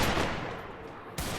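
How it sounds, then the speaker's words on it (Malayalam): Dense video game gunfire during a match fills the moment as a continuous loud rattle of overlapping shots, with a fresh burst near the end and no speech. "എന്താ വെടി അപ്പുറത്ത് തന്നെ വന്നു."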